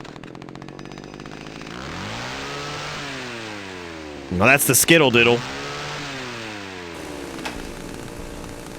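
A revving chainsaw engine in an indie horror video game swells loudly mid-clip with rising and falling pitch sweeps, heard over continuous game sounds while a person talks throughout.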